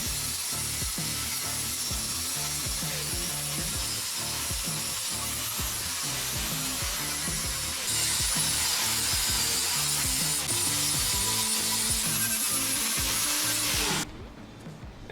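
Angle grinder fitted with a flap wheel smoothing metal, a steady, loud, continuous grinding whine with rhythmic scraping pulses throughout, close by, cutting off near the end.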